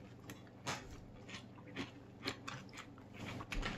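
Someone crunches on raw-ish, lightly fermented sauerkraut flavored with dill and garlic, and the bites come through as close, soft, irregular crunches over several seconds, with no talking.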